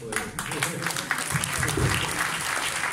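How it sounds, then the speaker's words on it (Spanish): Audience applause at a book presentation, a steady moderate wash of many hands clapping with some low murmuring voices underneath. "Un aplauso para Abraham."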